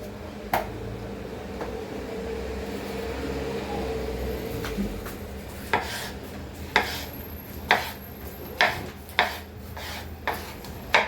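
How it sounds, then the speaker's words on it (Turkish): A knife taps sharply against a cutting board in a series of quick, evenly spaced chops through a tomato, following a stretch of softer rubbing and handling noise. "şimdi domatesimi doğruyorum."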